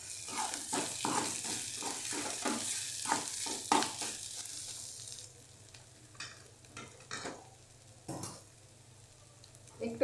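A spoon stirs chili powder and turmeric into a pan of frying garlic masala, making repeated scraping strokes over a light sizzle that fade later, with faint background sounds.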